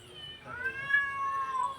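A cat meows in a drawn-out, wavering cry, fairly close and moderately loud, with no other sounds around it.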